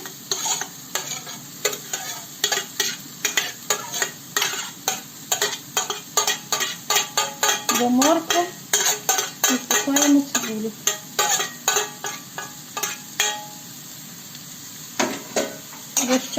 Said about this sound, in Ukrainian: Висипаємо сюди цибулю тушитися.